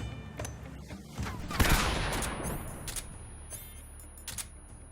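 Rapid gunfire bursts from the Metal Gear Solid video game, dense repeated shots with a louder cluster early on, over steady game ambience and background hum.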